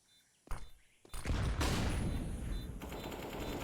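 Gunfire in the video game Counter-Strike, a sharp shot followed by a burst of rapid fire that settles into a sustained loud clatter of shooting and impacts.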